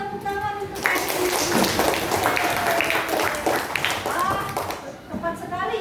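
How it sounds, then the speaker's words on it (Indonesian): Classroom applause from primary school pupils clapping for a classmate, a burst of many small hands close by, mixed with children's voices and chatter throughout. "Oke, tepuk tangan untuk Hengki."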